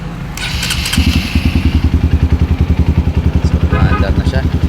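An open-piped Honda CRF150L motorcycle, freshly remapped, starts up and settles into a loud, rapid, lumpy idle with sharp throttle blips, while people talk nearby.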